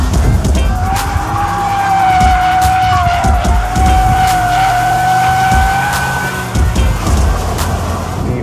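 A 2015 BMW M4 or Lexus RC F sports car drifting, with a loud sustained tire squeal wavering over several seconds above engine roar, close and continuous.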